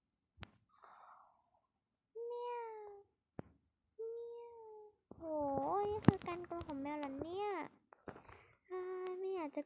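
Several cat meows in the game Sakura School Simulator, high and drawn out, come one after another with short gaps, a quick sharp tap and soft breathy noises between them.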